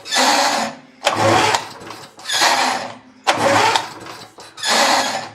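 A small lawn mower engine runs lean without its air cleaner, revving up and dropping back in five loud, close surges with brief dips between them.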